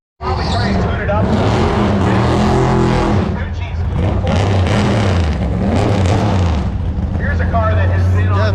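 A 1988 Chevy Camaro race car at a racetrack with its engine roaring loud and close, revving hard and rising and falling, while people talk over it.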